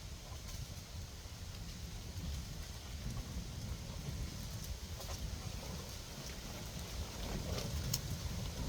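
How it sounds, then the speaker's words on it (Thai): Heavy summer rain from the season's first storm, driven by strong wind, a dense, constant roar of downpour with a low rumbling undertone throughout. "ฝนครั้งแรกมันจะ เป็นอย่างเงี้ย แหละ ฝนฤดูร้อนนะมันก็จะ กระหน่ำมันก็จะ รุนแรง"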